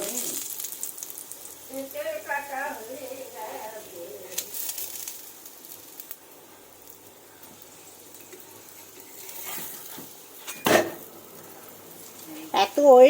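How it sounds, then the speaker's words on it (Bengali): Jambu parathas frying in white oil in a home kitchen pan, a soft steady sizzle with occasional clinks of utensils, while someone talks over it in places. "সাদা তেল দিয়ে কিন্তু জামু পরোটাগুলো ভাজবো"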